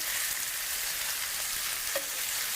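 Chicken thighs in a Ninja Foodi PossibleCooker multi cooker sizzle and fry with a steady hiss, and a brief scrape or clink is heard as one is turned over.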